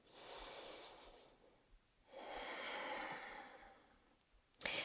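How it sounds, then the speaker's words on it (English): Slow deep breaths during a yoga stretch for the wrists and fingers: two long, soft airy inhale-exhale swells, close to the mic and unhurried, followed by a brief rustle of movement. "we'll do one more breath here, all the way into your belly"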